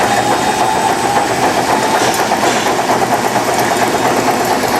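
An Emery Thompson ice cream machine runs at ramped-up speed, giving a loud, steady mechanical hum and whir that is constant and close throughout, with no speech.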